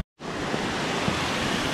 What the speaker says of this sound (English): Skit's mission to find a waterfall. See it down from the valley.